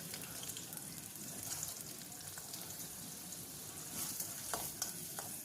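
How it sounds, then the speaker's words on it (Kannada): Chopped onions fry in a pan for khichdi, giving a soft, steady sizzle with light stirring scrapes, close and fairly quiet. "ಈರುಳ್ಳಿದು ಸ್ವಲ್ಪ ಹಸಿ ವಾಸನೆ ಹೋಗೋ ತನಕ ಫ್ರೈ ಮಾಡ್ಕೊಬೇಕು"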